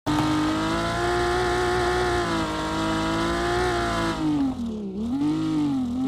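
A tuned German car engine holds a loud, steady high-rpm drone, then drops and swells again in a quick blip near the end, close and alone without talk.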